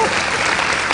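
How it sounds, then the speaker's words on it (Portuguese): A comedy show audience bursts into applause, a dense, loud, even roar of clapping that fills the short moment. "Uma salva de palmas."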